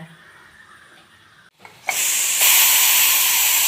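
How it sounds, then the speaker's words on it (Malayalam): After a quiet moment, a pressure cooker whistle bursts into loud, steady hissing steam that grows stronger and holds, while Kerala-style raw papaya curry cooks on a gas stove. "അങ്ങനെ ഒരു വിസിൽ വന്നിട്ടോ."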